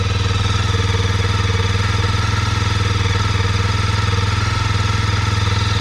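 A 2020 Kawasaki KLX230R dirt bike engine idles close by, a loud, steady, rapid chugging pulse that holds unchanged throughout with no voices.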